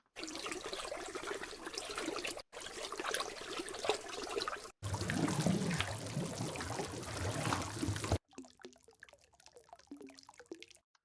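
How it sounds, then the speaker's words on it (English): Unprocessed library recordings of gentle, tonal, wet dripping and watery sounds, played as a sequence of separate short takes: dense trickling and splashing passages followed by a quieter run of distinct, pitched drips. "really great, like tonal, gentle, drippy, wet sounding, watery sounds"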